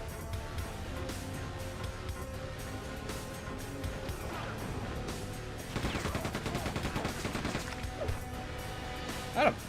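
Gunfire from Quake II 64 on the Nintendo 64, a steady stream of rapid shots layered over droning game music and rumbling effects, close and continuous with a sharper burst near the end, no voices.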